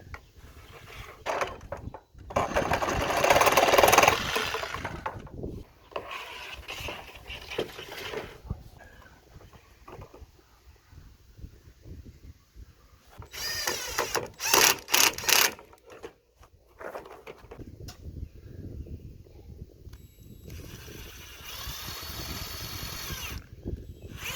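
An RV sewer hose is cut to length in several bursts of harsh cutting or sawing noise, separated by quieter handling and rustling, close by and without speech.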